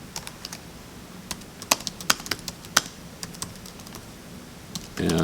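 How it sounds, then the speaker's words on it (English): Typing on a computer keyboard to enter a comment annotation on a PDF, an irregular run of close, crisp key clicks with a few louder taps, then a brief rustle at the end. "I'm going to go ahead and type in my comment."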